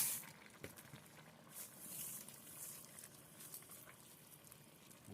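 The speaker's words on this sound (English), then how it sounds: "now that it's come to a boil, we're going to put our spices in there" A pot of broth made with a bouillon cube boils on the stove, bubbling and popping softly in a steady wash, fairly quiet and close with no talk over it.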